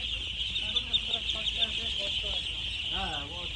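Thousands of 13-day-old ducklings at a duck farm: a dense, continuous mass of high peeping, close and steady, with a voice briefly speaking near the end.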